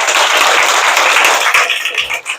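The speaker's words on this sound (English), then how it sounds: "You all want to give her a round of applause?" Primary school students applaud in a classroom, a dense, loud wash of many hands clapping steadily that thins out slightly near the end.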